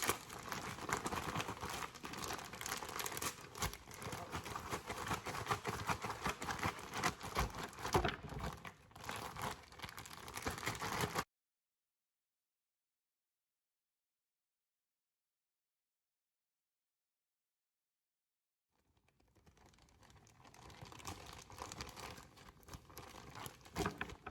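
Chicken wings shaken in a plastic bag of flour, salt and pepper, producing dense, continuous crinkling and rustling close by, then a long stretch of silence before the rustling returns more softly.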